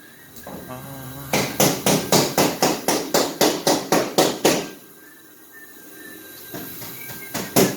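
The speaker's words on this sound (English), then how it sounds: "He's hammering away on something." Rapid, steady hammer blows ring out in a quick series of about fifteen sharp strikes, then stop, followed by a few scattered knocks nearby.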